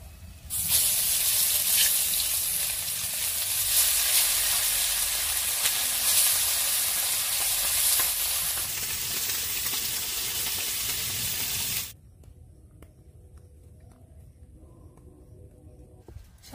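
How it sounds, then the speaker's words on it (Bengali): Pakal fish (eel) frying in hot oil gives a loud, steady hiss and sizzle for about twelve seconds, then cuts off sharply to near silence, leaving only a low background hum. "এই মাছগুলো ভেজে নেব।"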